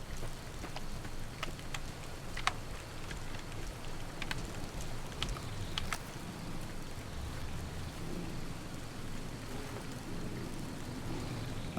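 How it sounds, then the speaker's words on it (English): Rain falls steadily in the video game Fallout New Vegas, a constant wash of drops with sharp crackling thunder-like snaps in the first half, fairly loud and uninterrupted by speech. "It's raining!"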